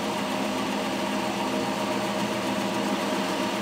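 A home-built permanent magnet alternator spins at about 500 RPM, giving a continuous close mechanical hum and whir that stays steady and even throughout, with no talk.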